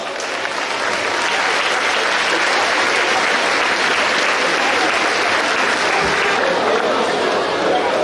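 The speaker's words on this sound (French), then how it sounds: "Et on les applaudit bien fort." Dense, steady audience applause fills a crowded festival gathering at the Fête de Bessan, honoring trophy winners; loud, continuous clapping from many hands with no break across the whole stretch.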